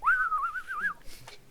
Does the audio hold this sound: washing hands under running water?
no